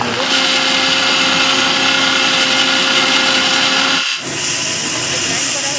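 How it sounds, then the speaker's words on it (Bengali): An electric mixer grinder whirs loudly and steadily while grinding a garlic clove and pieces of ginger for a homemade biryani, then cuts out briefly before starting again. "এরপর আমি এক কোয়া রসুন, আদা টুকরো আমি নিয়ে নিয়েছি মিক্সিতে গ্রাইন্ড করার জন্য।"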